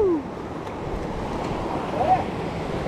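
Strong ocean waves surge and wash around a fishing boat off Oman, a steady broadband roar of surf and wind noise throughout, with brief shouts and a whistle-like call near the start.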